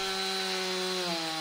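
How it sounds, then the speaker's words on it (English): A steady, droning chainsaw in the horror game Dinner Time, loud and continuous without a break, with no voices over it. "that chainsaw was drilling in my ears"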